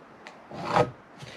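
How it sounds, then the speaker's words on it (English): A pencil scrapes a single line across a 2x6 board while a rafter is being marked, giving one brief close rasping stroke framed by faint softer rubs. "Then you're going to draw your line, keeping it on the 4."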